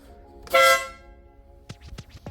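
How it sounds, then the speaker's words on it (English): A single short, loud car horn blast rings out close by, a bright tonal honk lasting about half a second, followed by a few soft knocks and faint handling sounds. "Let's hit the horn and see what it sounds like"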